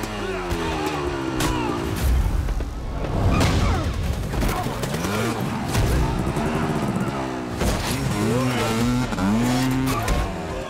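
A dirt bike in a film chase scene revs, its engine pitch repeatedly rising and falling, mixed with tire noise, thuds and sharp hits, all under a narrator's voice.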